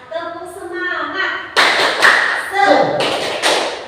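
A school teachers' group chants, then breaks into a loud, rhythmic group clap in sharp, patterned bursts that mix with their voices.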